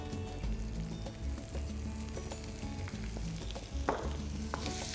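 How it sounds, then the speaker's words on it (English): Tomatoes with shallots, curry leaves and hing sauté in a pan over low to medium heat, giving a soft, continuous sizzle with light stirring clicks and a low background hum, with no talking. "now I'm going to saute this on a low to medium flame till the tomatoes turn nice and soft"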